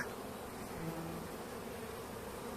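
Anatolian honey bees buzzing steadily at the hive during their winter emergence, a dense, continuous hum close by with no voices.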